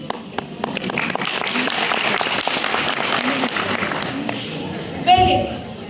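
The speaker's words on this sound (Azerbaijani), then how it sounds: "Alqışlar." An audience applauds at the Turkey-Azerbaijan brotherhood education forum: a dense, steady wave of many hands clapping fills the hall for several seconds, then swells briefly near the end as voices mix in.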